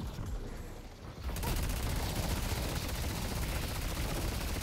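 Gunfire in the video game Deadlock starts after a second of quieter sound, then runs as a continuous, very rapid automatic stream at steady volume for the rest of the clip.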